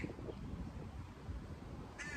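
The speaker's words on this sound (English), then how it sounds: "There's a bird in the sky, or I'm sorry, in the tree" A crow caws from a tree along a street in Portland, Oregon, a couple of loud, harsh calls near the end over quiet outdoor background.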